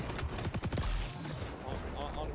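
Rapid bursts of gunfire in a first-person shooter video game match, dense and continuous with overlapping shots and mechanical clatter, mixed under game sounds and faint voices.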